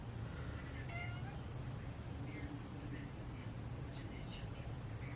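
Several faint, repeated meows and yowls from a female cat in heat drift in under a steady background hum, spaced irregularly across the stretch.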